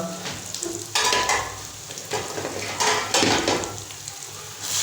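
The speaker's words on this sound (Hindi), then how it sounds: "अभी इसको अच्छे से मिक्स कर देंगे।" Spices frying in a pan for egg keema, a loud continuous sizzle that swells in bursts as the mixture is stirred and scraped close by.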